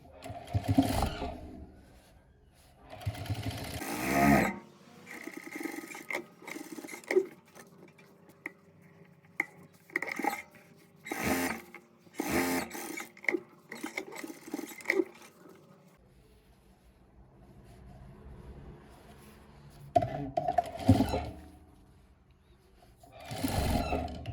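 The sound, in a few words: sewing machine stitching a fabric potholder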